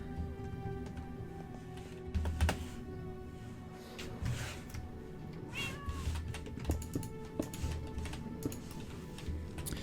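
Minecraft cat meows over a soft ticking backdrop of game sounds and light keyboard-like clicks, with a few short mews scattered across ten seconds, moderately close and not very loud.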